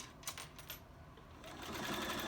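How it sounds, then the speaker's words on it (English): Sewing machine with a quarter-inch foot stitching binding around a small fabric folded star coaster, a quick mechanical whirring run that grows steadier and louder toward the end, close and alone. "I come in with my 1/4-inch foot, and I just sew around"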